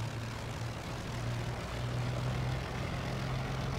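A Spitfire Mk I piston engine in Microsoft Flight Simulator throttles up for takeoff near Snowdonia, a loud, steady propeller drone that swells slightly in power throughout, with no voices.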